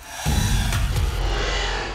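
A hand saw grinds against a metal ring worn on a swollen body part, a steady close rasping scrape that runs continuously without pause.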